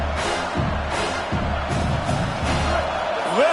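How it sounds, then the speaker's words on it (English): A college football stadium crowd roars in a dense, sustained wall of cheering that swells in waves to help the defense, with voices layered throughout and a brief whistle-like rise at the end. "Listen to this crowd just shaking the girders of this place, trying to help their defense."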